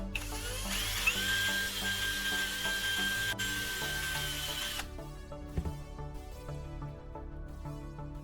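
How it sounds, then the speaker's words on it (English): A power drill bores one large hole through the center of a plastic bottle cap for a tin-can onion slicer, a steady high whine running about five seconds before it stops and leaves quieter workshop tones. "Mark the exact center and drill one large hole in the middle."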